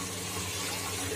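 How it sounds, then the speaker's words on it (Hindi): Water is poured into masala cooking in a pan, a steady close rush of flowing liquid that lasts throughout. "सब कतरा हम पानी का डाल देंगे चम्मच के से मसाला नीचे जाने के लिए"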